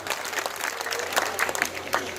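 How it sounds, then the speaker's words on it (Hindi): An audience claps together on cue at a talk or gathering, a short burst of steady applause alone. "एक बार ताली बजाओ"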